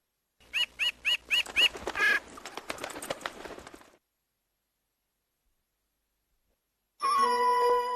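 A magpie gives a rapid series of harsh, clear chirps, then rattling chatter that fades. A few seconds of silence follow, and then a dense burst of other sound.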